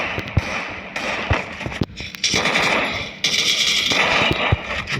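Rapid gunfire rattles through a Free Fire battle in quick, punchy bursts and single cracks, loud and close, with short gaps between volleys over about five seconds and no voices in the clip.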